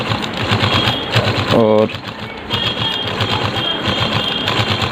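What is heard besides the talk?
sewing machine stitching double fabric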